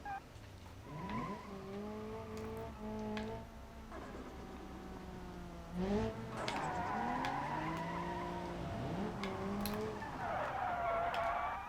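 Tires squeal and skid repeatedly as cars slide through corners in a racing video game, long swooping screeches with engine drone underneath, loud and continuous with no talking.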